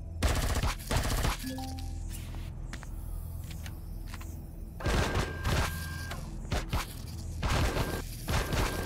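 Bursts of automatic gunfire in the game Empyrion Galactic Survival, several short sharp volleys separated by quieter gaps with faint mechanical clicks and tones, loud and close.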